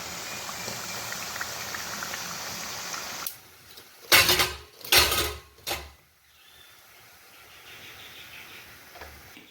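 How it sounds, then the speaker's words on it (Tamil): Lentil vadas frying in bubbling oil give a steady crackling sizzle for about three seconds, then a quieter stretch broken by a few louder splashy bursts, before a soft bubbling settles back in. "கொதி அடங்கினதும் எடுத்துடலாம்."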